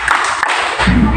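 A classroom group claps their hands together in a dense, noisy burst of overlapping claps with thumping taps, loud and close.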